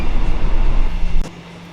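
An overnight sleeper-class train to Bangkok, Thailand, rumbles loudly from inside the carriage, a dense rolling roar that drops suddenly quieter near the end, with no talking.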